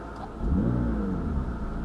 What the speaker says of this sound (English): It's interesting how that restarts the car.